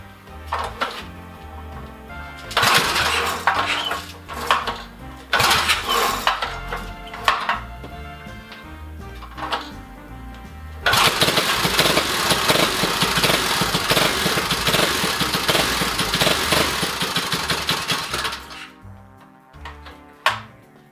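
Small minibike engine fitted with a homemade billet flywheel, starting and idling: bursts of clattering, tinny mechanical revving, then a steady loud run for several seconds before it cuts off, with no talk.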